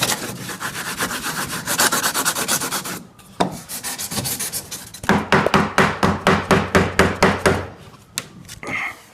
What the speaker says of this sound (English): I'm going to rub this edge, just watch what happens.